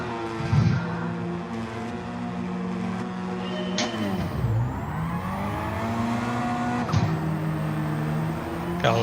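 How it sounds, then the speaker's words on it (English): Hyundai Elantra race cars in a racing video game launching off the start with wheel spin, engines revving high and shifting up together in a steady loud drone with rising and falling pitch sweeps. "Got a lot of wheel spin."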